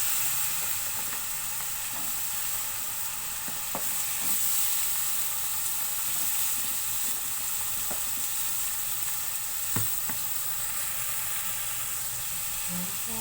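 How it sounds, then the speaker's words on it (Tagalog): String beans added to a pan of sautéing pakbet, a Filipino vegetable dish, with a steady close sizzle and hiss throughout and a few sharp clicks of a utensil. "Lalagay ko naman po ang sitaw."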